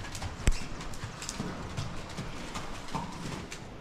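Horse hooves trotting on a barn lap, a foal trotting alongside its mother, with steady irregular clip-clop beats close by under a constant breezy outdoor background.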